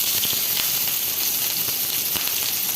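Oil hisses steadily in a hot pan at the start of cooking a sponge gourd and prawn dish, a continuous, fairly loud broadband sizzle with a few soft crackles and no talking.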